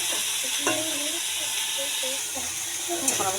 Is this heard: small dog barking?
no